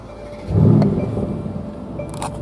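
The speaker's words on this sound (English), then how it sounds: "basically all you do for emotion start is you hold the left paddle, press the push start down here, and then you get an extra aggressive startup" A 2020 Mercedes-AMG GLC 63 S Coupe fires up with an aggressive start, a loud low engine burst that rises and then settles into a rumbling idle, heard alone and up close.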